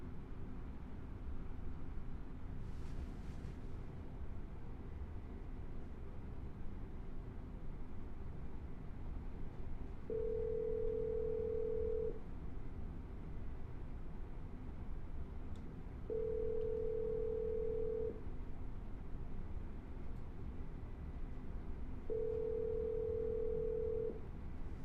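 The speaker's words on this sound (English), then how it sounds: "I'm going to double dial." A telephone ringback tone on an outgoing call: three steady electronic rings, each about two seconds long and spaced roughly six seconds apart, over constant faint line hiss, with no talking.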